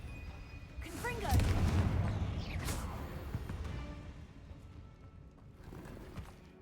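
Confringo fire spell blasts go off in the video game Hogwarts Legacy, two loud bursts about a second apart, mixed with game effects and speech.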